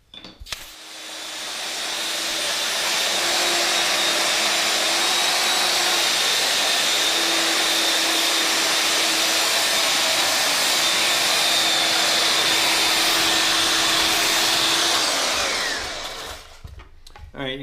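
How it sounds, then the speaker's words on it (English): A belt sander bevels a wooden floor transition strip, its motor whining in one loud, continuous run that ramps up at the start and winds down near the end. "I have to go ahead and take a belt sander to it"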